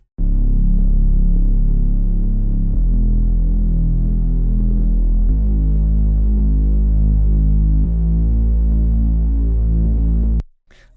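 Serum synth using a respace preset plays the root notes of a dark, emotional chord progression, a loud sustained tone that shifts pitch every few seconds over a deep steady low end, alone until it cuts off abruptly near the end.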